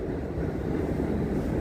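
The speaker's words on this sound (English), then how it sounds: "The sound you hear is a train downstairs." A low, continuous rumble of a train passing beneath a building in New York City stays steady and fairly loud throughout.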